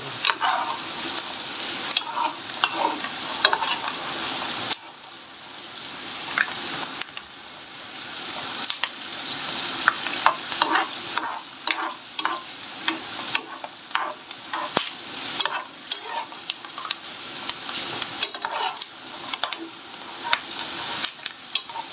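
Meatballs for a tajine brown in a hot pan, sizzling steadily and close while a utensil scrapes and turns them in repeated clattering strokes.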